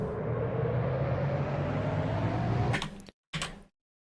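Low and high synth uplifter effects layered together, a broad noisy riser swelling steadily for under three seconds before cutting off, followed by a short choppy tail burst.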